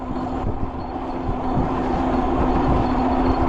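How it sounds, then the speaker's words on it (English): Near a train yard beside a road, a steady low rumble and engine-like drone hold at an even level throughout while an e-bike rides past, with a faint constant hum above it and no talking. "This is the train yard that I'm riding along."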